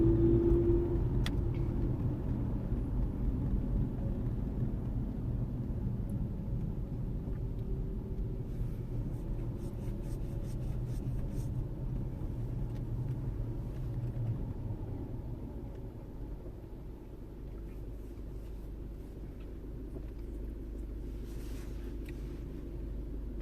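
Road traffic on Ocean Parkway heard from inside a moving car: a steady low rumble of engine and tires that eases slightly partway through, with faint ticks and no talk.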